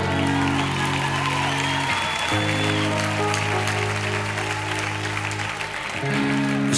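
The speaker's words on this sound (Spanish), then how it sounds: "Y que les vamos a dar el aplauso más grande del mundo." Audience applause at a concert in Sala Bikini, a dense, steady wash of clapping from a large crowd, loud and sustained throughout, with a tonal hum and murmur underneath.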